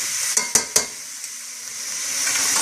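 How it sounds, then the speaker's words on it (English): Celery and onions cooking in a pot for beef curry stew give a steady bright sizzle, with three sharp scraping stirs near the start, close and alone. "just going to go ahead and let that celery start to cook in a little bit"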